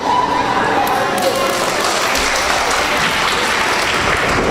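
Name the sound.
wrestling crowd applause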